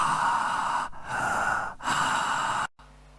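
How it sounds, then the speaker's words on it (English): Loud, pure breath noise from a person breathing heavily near the microphone, three long airy rushes separated by brief pauses, then the sound cuts off abruptly. "So here is me just breathing loudly"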